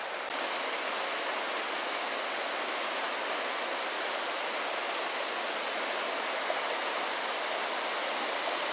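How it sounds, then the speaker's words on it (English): River water rushing loudly and steadily through Johnston Canyon in Banff National Park, a constant broad roar close by with no other sounds on top. "Water rushing by."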